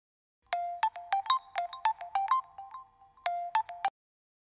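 Electronic ringtone of a phone with an incoming call, loud and close, playing a bright repeating melodic pattern in quick bursts, pausing briefly, then resuming before stopping.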